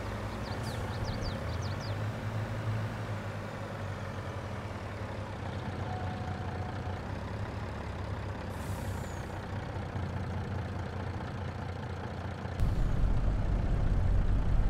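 A Mack truck in Farming Simulator 22 idles with a steady low diesel rumble, broken by short hisses of air brakes. The engine grows louder near the end, with no talking.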